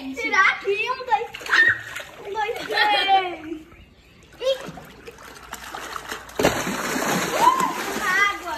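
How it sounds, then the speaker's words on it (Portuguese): A child in a mermaid-tail costume splashes in a swimming pool, with bright bursts of water thrashing close by. The child's chatter comes first, then the splashing grows louder toward the end. "Vamos ver se a sereia Clara vai nadar bem, gente"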